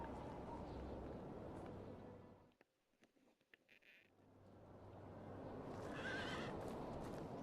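A horse in the video game Medieval Dynasty neighs against a steady outdoor ambience, followed by a short hush with faint clip-clopping and a brighter whinny-like call near the end.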